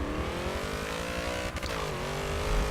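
A drag car in the racing game Forza Motorsport 7 launches and accelerates with a loud, steady, high-pitched engine whine that climbs in pitch, brief shift break midway, continuous and close with no talking.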